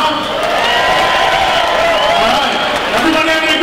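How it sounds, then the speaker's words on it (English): A concert crowd at an all-star jam night at NAMM 2020 applauds and cheers in a dense, continuous wash of clapping and whoops, with voices mixed in. "give all the folks behind the scenes a round of applause"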